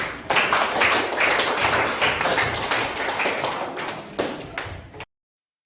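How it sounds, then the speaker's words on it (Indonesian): A classroom of students applauding, a dense, steady burst of hand clapping lasting about five seconds before cutting off. "Tepuk tangan dulu."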